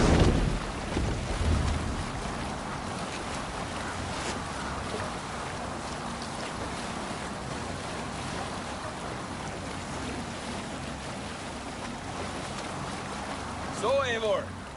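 A Viking longship under way in Assassin's Creed Valhalla, with a steady wash of water and wind rushing throughout, plus a heavier splash at the start and voices over it.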